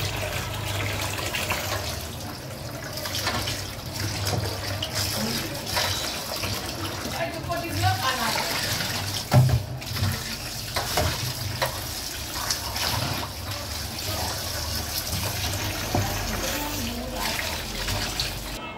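Tap water running steadily while bata fish are washed in a home kitchen, a continuous close splashing flow with occasional clatter and a voice talking over it.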